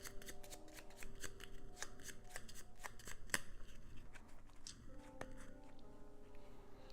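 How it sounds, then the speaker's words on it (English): A deck of cards is shuffled during a tabletop session of Mansions of Madness 2nd Edition, soft repeated riffling and ticking card snaps close by but quiet, with no voices. "so I'm gonna just shuffle and draw 4."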